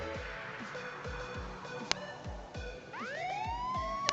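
A police siren wails and climbs in pitch over a busy Pumping Simulator 2 game soundscape with repeated low thumps and engine noise, loud and close.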